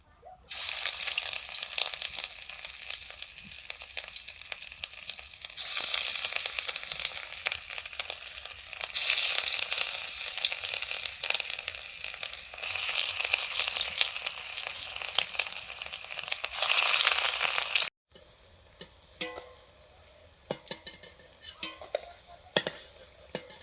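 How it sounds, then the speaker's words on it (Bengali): Lentil and cabbage fritters fry in mustard oil with a steady, loud sizzle and occasional stirring scrapes, broken by a brief pause near the end before quieter clinks and sizzling resume. "সর্ষের তেল দিলাম ভেজে নিচ্ছি"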